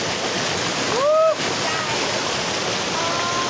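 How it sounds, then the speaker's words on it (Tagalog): Aliwagwag Falls in Cateel, Davao Oriental, gives off a constant broad rushing roar of falling water, with a brief voice exclamation near the start. "Aliwagwag Falls."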